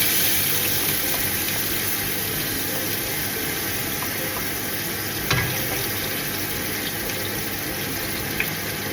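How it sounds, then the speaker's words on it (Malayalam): Onions frying in hot oil in a pan after chicken has been fried for chicken fried rice, a steady close sizzle with faint stirring clinks and no talk. "നമുക്ക് ഓണിയൻസ് ഇടാം കേട്ടോ."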